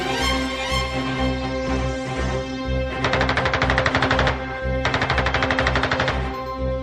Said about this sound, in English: E-16 was armed with 2 Shkas machine guns